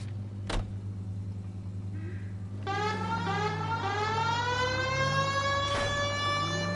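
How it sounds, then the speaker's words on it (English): Police car siren in the video game L.A. Noire starts partway through and wails with rising, sweeping tones over a low steady engine hum. "We've got a siren for a reason"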